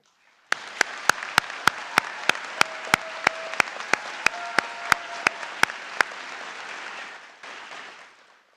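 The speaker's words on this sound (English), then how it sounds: "we recognize her with our applause" A commencement audience applauds the valedictorian at a community college ceremony, sustained broadband clapping that starts abruptly, holds steady with a few loud nearby claps standing out, then fades away over the final second.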